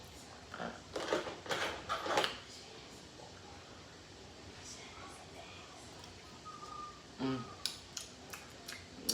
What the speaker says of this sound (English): can I crack this open with these scissors?